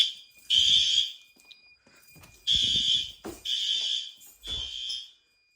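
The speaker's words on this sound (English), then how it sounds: "This horn strobe is good." Loud, close bursts from a fire alarm horn strobe sound during a building alarm test. Each blast lasts about half a second to a second, with short gaps between them and a few faint clicks and bumps.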